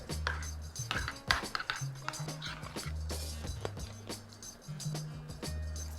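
Curry mustard sauce stirred in a bowl, a utensil clinking and scraping against the dish in a quick repeating rhythm, close and fairly quiet, with no talking.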